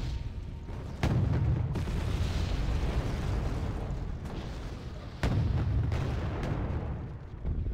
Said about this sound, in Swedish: Varför har mitt artilleri inte slutat skjuta?